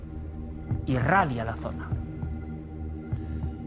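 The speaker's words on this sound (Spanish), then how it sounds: "El latido de un corazón." Low, throbbing heartbeat sound effect pulsing under a voice speaking Spanish, a deep muffled rumble continuing through the clip.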